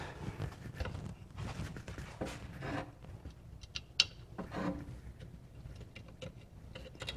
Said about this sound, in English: Run that in, put the bolt back in.